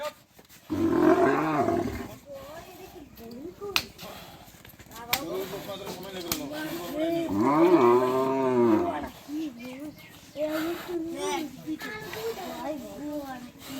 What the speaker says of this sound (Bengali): এই গরুগুলো এখন লোড করা হবে